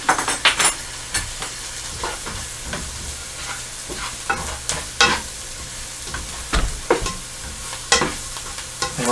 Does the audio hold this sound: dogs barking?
no